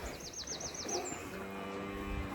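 Cattle in a farm setting, grass- and silage-fed cows and steers, give a low, drawn-out moo heard faint and distant over quiet outdoor background, with chirping birds higher up.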